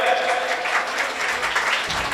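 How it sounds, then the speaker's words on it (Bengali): Dense applause from an audience for the actors of the Sur Tarang Opera jatra troupe gathered on stage, a steady wash of clapping throughout, fairly loud with faint voices underneath. "এনাদের জন্য জোরে একটা হাততালি হয়ে যাক"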